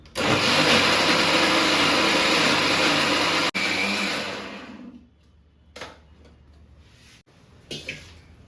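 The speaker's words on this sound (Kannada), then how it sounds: "ಈಗ ಇದನ್ನು ಮಿಕ್ಸರಿಗೆ ಹಾಕಿ ರುಬ್ಬಬೇಕು." A mixer grinder whirs loudly and steadily for several seconds grinding cowpeas, then winds down and stops, leaving a few faint knocks and clicks.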